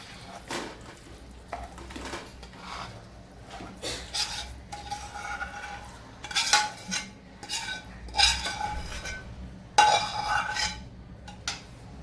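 Kitchen sounds of urad dal batter for adadiya pak being poured and scraped into a ghee-greased metal thali, with scattered clinks of metal utensils against the plate, moderately loud and close, no talking.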